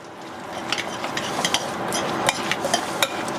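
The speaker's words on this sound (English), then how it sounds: "Give that a quick mix." Pork salad being mixed with a splash of pickle juice, a close run of wet stirring and scraping with light clicks of a utensil against the bowl.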